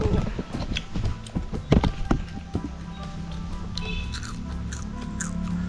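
Crunchy homemade papaya fries are bitten and chewed up close, a quick run of sharp crisp crunches that eases into softer chewing at a farm in the countryside.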